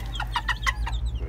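Mother hen clucking while feeding her baby chicks roaches, a rapid series of five or six short, close clucks over a low steady background hum.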